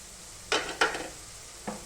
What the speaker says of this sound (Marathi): आता कांदा चांगला लालसर रंग येऊपर्यंत परतून घेते